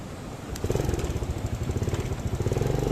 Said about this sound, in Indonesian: Mau naik motor Lur, ikuti terus saya dulu.